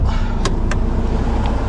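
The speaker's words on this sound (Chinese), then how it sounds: "过来把这个汽车发动了" A motorhome's engine runs at a steady idle with a loud, continuous low rumble, broken by a couple of brief higher clicks or whirs.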